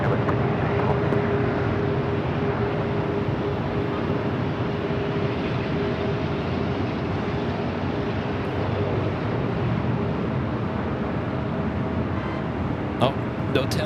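An Airbus A380 departs runway 24 right at Los Angeles airport, a steady, spread-out engine roar lasting throughout at moderate distance, with someone talking over it.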